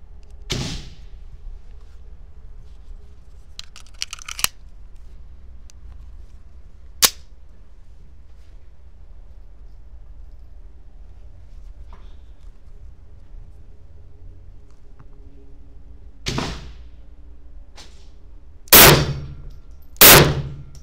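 A Beretta 81 pistol chambered in 7.65 mm (.32 ACP) is fired at a target. Single sharp reports come at irregular intervals with long quiet gaps, ending in a louder pair of shots close together.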